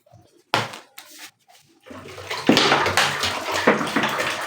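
Water splashes and pours into a container in bursts while four litres are added for mango juice, then flows steadily with a loud, rushing gush.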